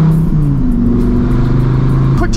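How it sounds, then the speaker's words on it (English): A Dodge Viper ACR drives fast, its loud engine droning close and steady with a gear change partway through, the revs climbing again before a brief sharp noise at the end. "Quick drive in the Viper ACR"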